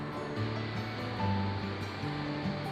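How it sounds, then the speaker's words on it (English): The Taylor River flows beside a hiking trail, a steady broad rushing wash of moving water, fairly close and continuous, with no voices. "The trail gets pretty close to the Taylor River right here."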